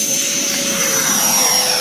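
An RC airplane running on 6S batteries flies past, a steady, loud high-pitched electric motor whine with a constant tone and no talk over it.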